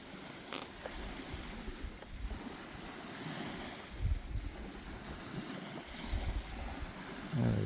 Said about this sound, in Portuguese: som do mar.